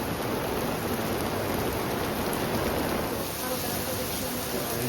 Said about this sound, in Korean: 밥 먹고 나왔는데 비가 엄청 와서 지금 비 피하고 있어요